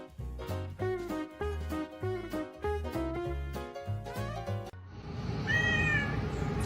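A cat yowls at a door: a quick series of loud, close meows in a rhythmic run, then one drawn-out, wavering caterwaul over a rushing background noise.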